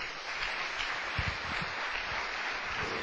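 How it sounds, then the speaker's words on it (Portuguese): Church congregation applauding the Lord during a sermon, a steady wash of many hands clapping at moderate distance, continuous throughout with no speech over it. "Quem pode dar uma salva de palmas para o Senhor?"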